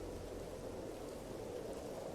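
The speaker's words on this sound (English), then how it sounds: "since the rain is coming in again." Rain falling in the survival video game All Will Fall, a steady soft hiss of downpour with low rumbling underneath, quiet and continuous with no voices.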